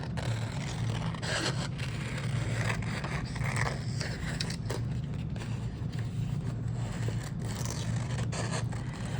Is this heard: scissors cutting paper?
yes